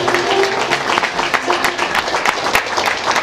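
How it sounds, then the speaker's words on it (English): An audience in a room in Summit County breaks into applause, a dense, steady wash of many hands clapping close by with scattered sharper claps, and no one speaking over it. "Round of applause, everybody."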